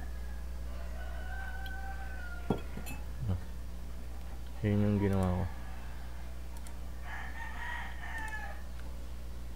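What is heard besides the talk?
roosters crowing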